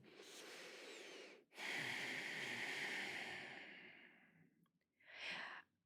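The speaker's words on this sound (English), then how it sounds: "This is called breathing." Slow, deep human breathing close to the microphone: a long airy inhale and exhale, a brief pause, another long breath fading out, then a short sharp breath at the end.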